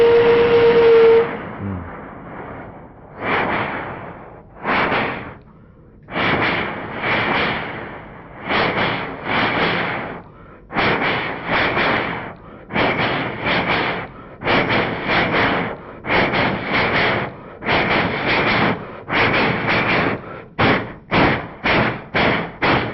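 A man imitates with his voice a train pulling away and crossing a bridge: a long hooting whistle, then loud rhythmic chugging bursts that grow quicker and shorter toward the end.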